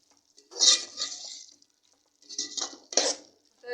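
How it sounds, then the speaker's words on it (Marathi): Ivy gourd vegetable with coriander being stirred in a pan, two short bursts of scraping and clinking from a spoon against metal, close and fairly quiet with silent gaps between. "आपण आता कोथिंबीर घालूया आणि परतून घेऊया"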